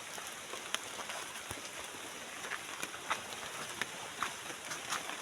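Rain falls on a muddy rural path, a soft steady patter with scattered louder drops, fairly quiet and with no voices.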